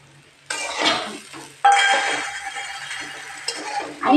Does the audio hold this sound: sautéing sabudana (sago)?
yes